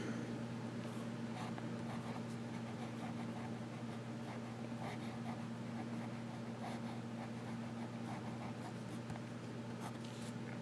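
Lamy Safari fountain pen with a broad nib writing on paper, a faint, soft scratching under a steady low background hum, with no talking.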